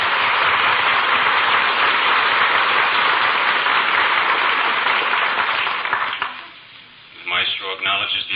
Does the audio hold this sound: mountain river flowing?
no